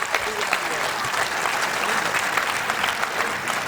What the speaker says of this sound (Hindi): एक बार तालियां सब बजा दीजिए अच्छे से